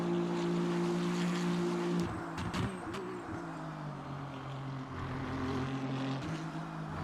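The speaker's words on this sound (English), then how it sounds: "Very quick downshifts." Ford Mustang LMGT3 racing at Spa in a simulator game, its engine note dropping in quick downshifts around 2 to 3 seconds, loud and continuous with a steady drone before and after.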